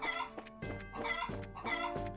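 Chickens cluck in the video game Trails in the Sky SC, a few close, loud bursts of clucking repeating in a steady rhythm over a game soundtrack, with no one talking.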